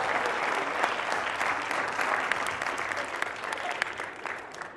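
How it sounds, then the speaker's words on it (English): Audience applause at a Bloomington community event held with Normandale Community College, a dense, steady wash of clapping from a sizable crowd, continuous and fairly loud throughout. "Give yourselves a round of applause"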